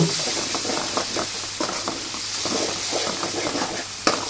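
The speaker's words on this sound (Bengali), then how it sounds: "সর্ষে বাটা দিয়ে আরও একটু ভালো করে নেড়ে ছেড়ে কষিয়ে নেব" Red poa sea fish curry with mustard paste being stirred and fried in a pan, a steady close sizzle broken by repeated scraping stirs, with a sharp clatter near the end.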